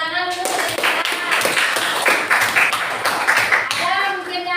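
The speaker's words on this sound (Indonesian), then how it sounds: "Betul, tepuk tangan dulu." A classroom group bursts into a few seconds of brisk hand clapping. A voice speaks just before and after the clapping.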